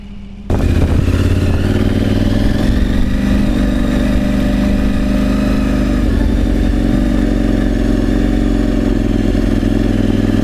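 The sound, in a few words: motorcycle riding on the road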